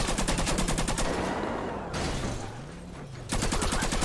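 Rapid automatic gunfire in Grand Theft Auto V after a heist, fast rhythmic bursts at the start and end with a short lull between, loud and close.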